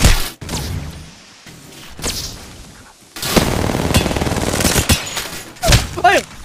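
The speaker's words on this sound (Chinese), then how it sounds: "佢一路插火一路开枪啊" Gunfire in the Apex Legends video game as a character keeps shooting: loud bursts of rapid, rattling shots and sharp impacts, with a sustained barrage in the second half and brief voice-like sounds.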